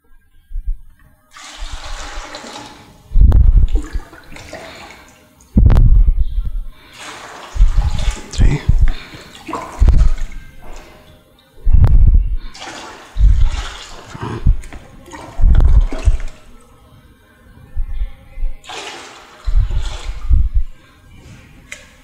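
Water splashes and gushes in repeated pours into a container while five liters are measured out for making stain remover, loud and close, with pauses between bursts.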